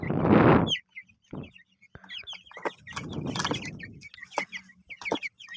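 Chickens cluck and squawk close by in loud, irregular bursts, with sharp calls scattered through the clip.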